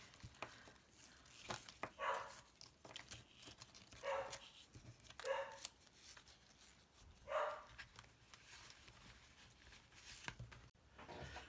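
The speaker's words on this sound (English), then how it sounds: "Oh, my dog's barking." A dog barks in four separate bursts about two seconds apart, indoors and moderately near, against low background hum as it reacts to a pigeon on a conservatory roof.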